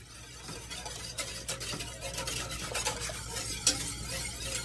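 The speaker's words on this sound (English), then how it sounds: "we're gonna mix that up" A spoon stirs a corn-juice mixture in a pot, producing repeated close scraping and swishing strokes over a soft sizzle, with one brighter metallic clink toward the end.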